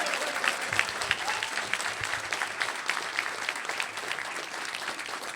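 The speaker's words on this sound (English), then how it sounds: "Give him a round of applause." Sustained crowd applause fills the space at a gaming event, dense clapping from many hands rolling on steadily at moderate loudness without a break.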